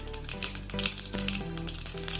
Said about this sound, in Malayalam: ഇനി കടുക് വറുക്കാൻ ഒരു ചട്ടി വെച്ച് കൊടുത്ത്